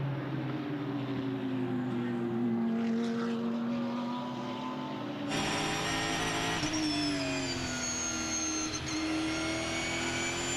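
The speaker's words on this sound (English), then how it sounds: "Great to hear that engine and gearbox working." A GT race car engine drones and shifts pitch as it passes on a racing circuit, with rising and falling whine from the gearbox, loud and mechanical.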